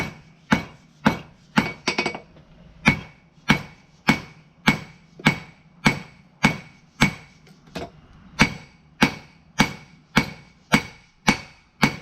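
A hammer forges the tang of a patch knife, striking about twenty sharp metallic blows in a steady rhythm with a brief flurry of quick hits near the start, loud and close, with no talk.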